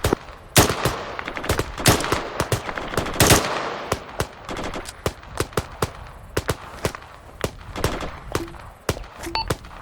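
Rapid gunfire in the military video game Arma 3 during an infantry milsim operation: dense bursts of sharp shots, then scattered single and rapid cracks, loud and close.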